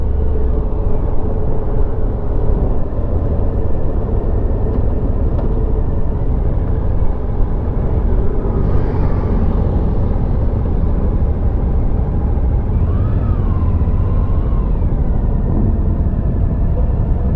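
A 2022 Suzuki V-Strom 1050XT adventure motorcycle pulling away gently, its engine a loud, steady low rumble mixed with wind roar throughout, with slight rises in pitch as it accelerates.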